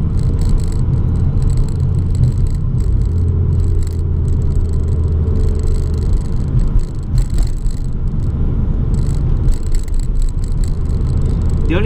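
An LPG-fuelled car engine idles with the oil still cold, giving a steady low rumble with light rattling that runs continuously and close by throughout.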